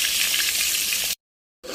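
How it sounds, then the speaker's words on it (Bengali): Chicken roast frying until brown on a stove, a loud steady sizzle of hot oil that cuts out abruptly for a moment before resuming. "চুলায় রান্না করছি আর রোস্টটাকে বাদামি করে ভেজে নিচ্ছি"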